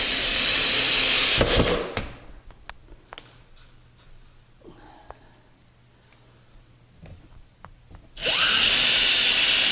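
A power drill drives 5/8-inch screws into a steel kitchen cabinet's thin backing panel: two loud whirring bursts at the start and end, with quiet handling clicks between.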